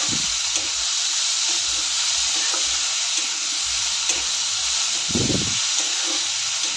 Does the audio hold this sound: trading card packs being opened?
no